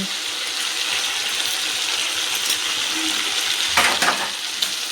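Chicken fries in a pan with ginger paste, giving a loud, continuous close-up sizzle. A brief clatter of stirring comes near the end, and no one speaks.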